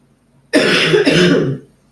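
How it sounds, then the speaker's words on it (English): A single harsh cough, loud and close, in two quick bursts, with quiet before and after. "Man, I still got a nasty cough."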